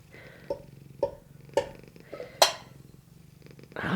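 A cat purrs close by in a soft, rhythmic rumble, broken by several sharp clicks or taps at roughly half-second intervals, with no talking.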